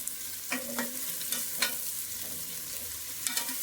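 Onions frying in oil in a 12-litre pressure cooker for avarekalu pulao, a constant close sizzle with occasional scraping stirs of a spoon against the pot.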